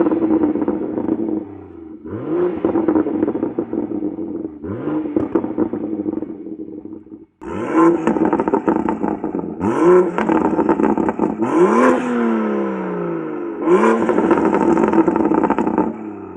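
A car with a sport catalytic converter exhaust revs while standing still, in several loud bursts that climb and fall, separated by brief near-silent gaps.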